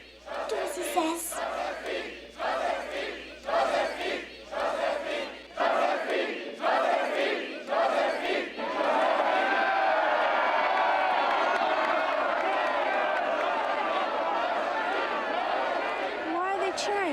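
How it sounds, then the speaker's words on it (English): Crowd cheering in 1987 Napoleon-era drama, rhythmic chanted cheers at first, then a sustained roaring mass of voices, loud and continuous. "Why are they cheering her?"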